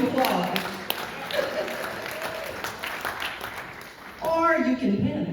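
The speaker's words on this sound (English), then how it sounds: "You may begin to applaud" An audience applauds at a retirement celebration, with a steady patter of clapping under a speaking voice and a brief murmur of crowd noise toward the end.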